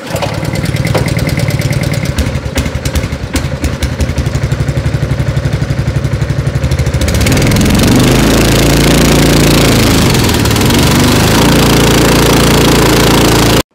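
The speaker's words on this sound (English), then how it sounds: "Now you're ready to start your engine." A hydroseeder's small engine cranks in rapid rough chugs, catches, and settles into a loud, steady running roar close by, with no talking.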